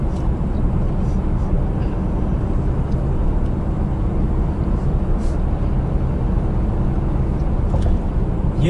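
A car drives across the Crimean Bridge, giving a steady, continuous interior road rumble and engine drone of even loudness throughout, with no voices.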